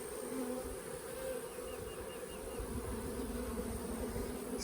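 Dense, steady buzzing of a crowd of honey bees on a freshly drawn hive frame outdoors at a farm, a continuous close drone with a low rumble beneath.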